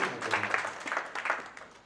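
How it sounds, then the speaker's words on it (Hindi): Audience clapping at a public talk, a short, fairly faint burst of scattered applause that fades out within two seconds. "कृपया इनके लिए जोरदार ताली बजाइए प्लीज।"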